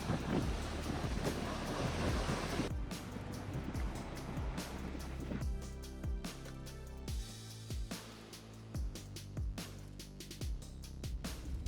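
Atlantic ocean waves off Madeira: a broad, rolling wash of surf with repeated surging swells and a windy rush underneath, steady and fairly full throughout.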